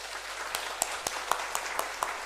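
Scattered, fairly quiet clapping from a church congregation, a handful of separate sharp claps spaced through a short stretch rather than a full ovation, with no talking.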